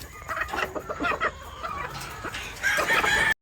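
Cecil Davis Kelso gamefowl, including a pullet, cluck nearby in a farm setting, with busy overlapping calls and a sharper, louder cry near the end.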